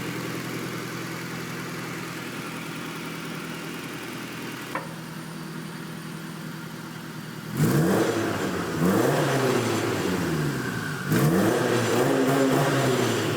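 Homemade turbocharged car engine idling with a steady hum, then revved while stationary in two loud, rising bursts held against a 4,000 RPM limit, heard nearby with no talk.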